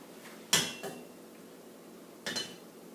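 A cake pan is flipped over onto a cooling rack on a cutting mat, making a sharp metallic clatter followed by a lighter knock, then a second clunk a moment later.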